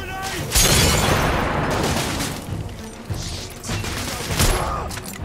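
Grenade explosions in the video game The Order: 1886 go off as heavy booming blasts, one close burst followed by later thuds and crackling debris, loud and dense, with gunfire and battle noise around them.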